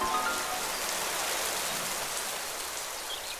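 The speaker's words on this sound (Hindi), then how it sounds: "अचानक ही मौसम बदला और मूसलाधार बारिश शुरू हो गई।" Heavy torrential rain pours down steadily in a forest by a river, a dense, loud, continuous hiss of water on surfaces with no breaks and no voices.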